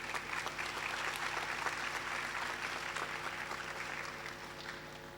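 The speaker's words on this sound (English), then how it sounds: "Applaud yourselves again." Sustained audience applause fills a university matriculation ceremony at the University of the West Indies, Mona campus, a dense crowd of clapping hands that holds steady and then slowly fades toward the end.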